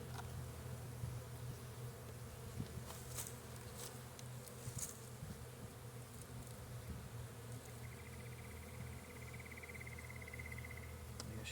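A steady, dense hum of honey bees fills the air at an open hive during a March inspection, faint and continuous, with a few brief higher buzzes as individual bees pass near.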